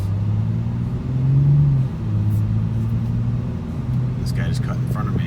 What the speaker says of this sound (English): This car will go down and it's going to accelerate itself.